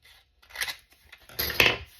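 Paper being cut with scissors during a papercraft tag project, a couple of short crisp snipping bursts close by, with quiet pauses between them.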